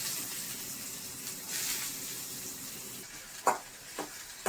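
Mustard seeds sizzling and frying in coconut oil in a pan, a steady hiss with a couple of sharp pops near the end, close and fairly quiet.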